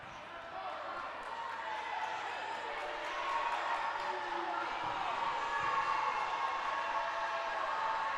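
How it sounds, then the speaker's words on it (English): A crowd at a girls high school basketball game, Wallenpaupack against Wilkes-Barre Area, makes a broad murmuring roar that swells partway through and stays loud, with voices talking over it. "Crowd getting into it a little bit"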